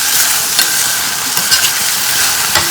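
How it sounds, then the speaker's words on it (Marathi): Food cooks in hot oil in a pan, giving a loud, close, continuous sizzle with steady crackling and occasional sharper pops, no voices over it. "पहिले तेलावर मी शिजवून घेते, त्याच्यानंतर मग हळद वगैरे टाकायचं."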